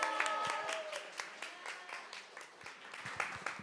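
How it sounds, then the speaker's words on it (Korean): Fairly quiet applause from a small audience at a gender-equality roundtable, scattered individual claps standing out over a soft clapping bed, with faint voices underneath. "다시 한번 큰 박수 부탁드립니다"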